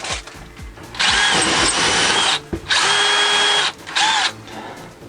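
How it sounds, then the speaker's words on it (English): A power drill whirs loudly in three bursts, two long and one short, boring a hole through a plasterboard wall, with brief pauses and low clicks in between. "I'm going to use a drill bit like this to make a hole in the wall"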